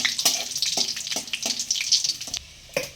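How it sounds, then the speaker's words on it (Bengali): Dried chilies crackle and sizzle in hot oil, a steady hiss broken by sharp, irregular pops and spits, close up with no talking. "শুকনো মরিচগুলো একটু হালকা ভাজা হোক"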